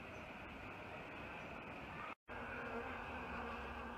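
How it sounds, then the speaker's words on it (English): Bees forage on a Neobuxbaumia polylopa cactus early in the morning, a steady, quiet buzz of many insects with one short dropout partway through. "the bees have woken up and have come to start harvesting on the Neobuxbaumia polylopa"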